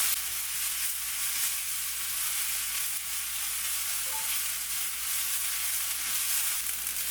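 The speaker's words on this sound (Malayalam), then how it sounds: "ഈ ഒരു പുതിനയും മല്ലിയിലേക്ക് ഒന്ന് ചെറുതായിട്ടൊന്ന് വഴന്നു വരണം" Fresh mint and coriander leaves sautéing in a pan for mint rice, a steady close sizzle and crackle with no talking over it.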